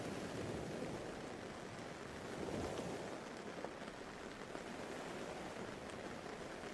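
Soft, steady rain patters on a tent, a constant hushing wash with gentle swells that hint at distant surf, holding at an even, quiet level throughout with no voices.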